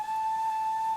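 A steady, unbroken steam whistle from an SECR C Class locomotive in Train Simulator 2019 holds one loud, clear tone for about a second, sounding alone with no talk.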